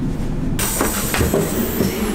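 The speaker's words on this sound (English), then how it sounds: "this is like a 2-minute ride and nobody is on the train." Inside a moving, nearly empty train on a short ride in Italy: a steady loud rumble of wheels and carriage, with rhythmic clacks over rail joints and a faint high whine running through it.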